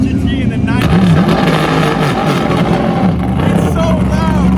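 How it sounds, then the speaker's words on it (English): GT race cars, including a Corvette C7 and a Porsche 997, roar out onto the track at Sonoma Raceway during the Velocity Invitational, loud engine noise with shifting pitches sweeping past as a person talks over it. "Right now the GT cars are going out on the track."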